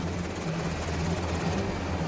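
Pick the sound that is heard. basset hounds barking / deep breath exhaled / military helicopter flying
military helicopter flying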